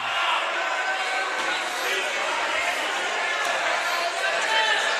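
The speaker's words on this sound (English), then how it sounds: "I just kind of wanted to let you guys hear the crowd while the cheerleaders are out." A high school basketball crowd in the Morton Indians gym during a cheerleader routine, a steady loud roar of many mingled voices and cheering that fills the space without pause.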